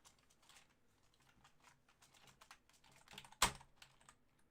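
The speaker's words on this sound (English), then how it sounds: "Are you gonna type?" Quiet, irregular clicking of keys being typed on a computer keyboard, nearby and soft, with one sharper tap near the end.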